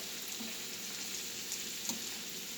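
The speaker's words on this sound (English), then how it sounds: "So you just let this simmer just a little bit, still on medium heat here." Yakisoba noodle stir fry simmering on medium heat in a pan gives a steady, fairly quiet sizzle and crackle, with a few small pops, continuous and without speech.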